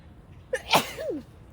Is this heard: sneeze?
yes